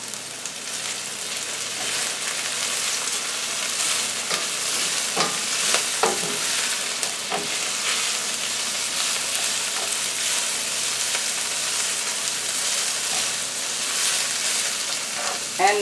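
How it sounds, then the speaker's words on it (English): Broccoli stir-frying in a pan with peppers and garlic for Chinese-style noodles and vegetables, giving a steady loud sizzle and crackle with occasional scraping stirs, no voices. "now I'm going to add the broccoli to the peppers and garlic"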